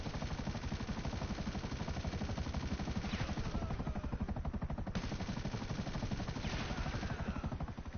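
Helicopters hovering under machine-gun fire in GTA Online, a steady loud rotor thump with rapid gunfire bursts running throughout, no talking.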